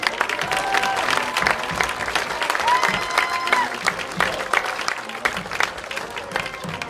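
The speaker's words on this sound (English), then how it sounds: "Please give a round of applause to our senior attendant, Miss Heidi Garrison." Steady applause from a large crowd at a varsity high school football game, with scattered cheers and voices mixed in throughout.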